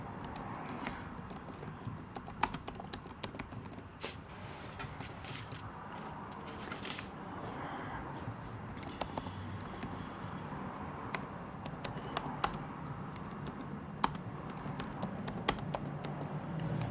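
Someone types router configuration commands on a computer keyboard, producing quiet, irregular bursts of key clicks with short pauses, close by and without speech.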